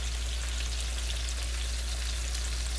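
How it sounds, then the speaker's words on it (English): Greek herb lamb loin chops searing in a hot pan, a loud, dense and continuous sizzle with a fine crackling texture close up, steady from start to finish with no voices. "I just need to get a good sear, and I'll be right back once I start getting my sear."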